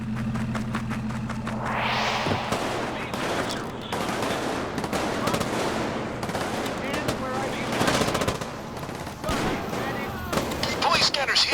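Sustained automatic gunfire and heavy shots in the heist video game Payday 2, rattling in dense bursts across the whole stretch, with game voices and chatter layered over the shooting.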